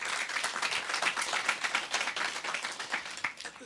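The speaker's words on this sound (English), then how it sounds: "Let's give her another round of applause." Audience applause at an open day talk, a steady wash of many hands clapping at moderate volume, dense and continuous for several seconds with no voices on top.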